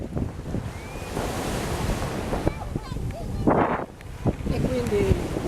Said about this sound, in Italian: C'è un vento incredibile